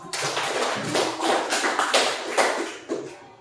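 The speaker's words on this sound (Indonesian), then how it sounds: "Oke, tepuk tangan semua." Students in a classroom give a short round of applause, a close, busy patter of many hands clapping with uneven surges that fades after a few seconds.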